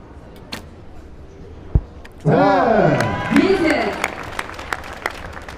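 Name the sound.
crowd cheering at archery match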